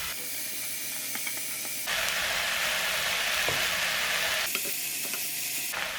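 Chopped Cheongyang chili peppers and onion sizzle loudly in a pan, a steady close hiss with light stirring scrapes that swells louder in the middle stretch, with no talking.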